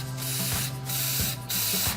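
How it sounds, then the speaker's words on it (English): Edible gold spray can hissing onto chocolate-covered strawberries in three sustained bursts with short pauses between, close and steady. "This is an edible gold spray"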